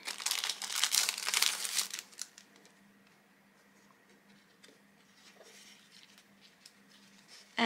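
Packaging of cellulose watercolor paper sheets being opened, loud crinkling and rustling for about two seconds, then quieter sparse crackles and faint handling sounds.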